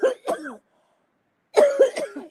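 A person coughs: two short, dry, close coughs, a second of silence, then a rougher burst of coughing and throat clearing.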